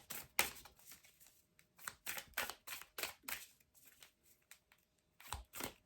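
Tarot cards shuffle in quick, irregular bursts of riffling and flicking, close and fairly quiet, with short pauses between the rustling strokes and no speech.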